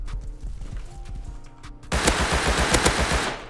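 Gunfire erupts in the survival game Rust, a sudden loud burst of rapid shots after a quieter stretch of sparse, thumping footsteps and distant pops.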